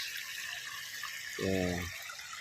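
Irrigation water drawn from a riverside pours steadily onto a farm field, a constant rushing hiss that fills the whole stretch, with a short tonal vocal sound briefly rising over it.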